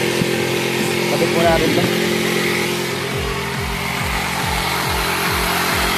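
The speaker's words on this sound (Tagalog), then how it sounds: "Naglalagari siya ngayon ng ating exhaust." Power saw cutting through an exhaust pipe in a workshop, a loud continuous engine-like whine with repeated pulsing strokes, while someone talks over it nearby.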